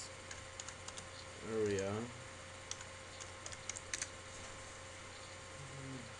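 Computer keyboard typing in short clicky bursts, with a brief spoken word partway through and a quieter voice near the end.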